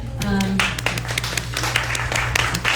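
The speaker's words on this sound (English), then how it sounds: "thanks for the claps on the shirts" An audience at a community health forum claps, a burst of many hands applauding near and fairly loud, with a voice speaking over the start of it.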